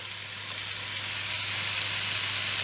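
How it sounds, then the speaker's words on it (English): Frozen vegetables sizzling as they hit browning minced meat in a hot pan, a steady loud hiss that rises slightly and continues evenly, with no talking. "so I'm just going to add in the frozen vegetables"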